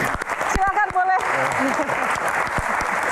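An audience at a talk-show Q&A claps in a burst of applause that carries on under a person speaking over it.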